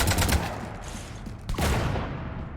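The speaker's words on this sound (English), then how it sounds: "You want to stop shooting up my ship?" Gunfire raking a ship in Mass Effect 3: rapid, loud volleys of shots at close range, a short lull, then another sharp burst of fire, no talking.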